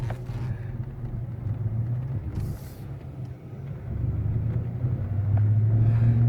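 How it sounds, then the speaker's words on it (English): A truck crawling along in four-wheel low gives a steady, rough engine and drivetrain rumble that grows louder and heavier toward the end, with no talking. "we're going to check and see what it sounds like in 4-wheel low"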